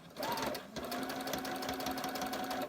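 A sewing machine stitching fabric runs continuously at a steady, fast mechanical rhythm, with a faint hum and whine under the stitching throughout.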